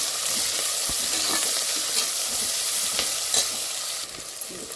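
Green chillies and onions frying in oil for ghee rice, a loud, dense, continuous sizzle close by with a few soft stirring knocks.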